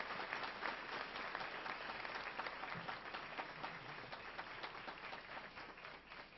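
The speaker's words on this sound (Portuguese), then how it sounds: "e receber uma salva de palmas aí" An auditorium audience at a plan launch event claps in sustained, dense applause that holds evenly for several seconds at a moderate distance.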